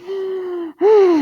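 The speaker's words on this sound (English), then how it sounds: "Deep breath." A deep breath is drawn in with a loud, close, wheezy voiced rasp, then after a brief pause a second, stronger rasping breath follows.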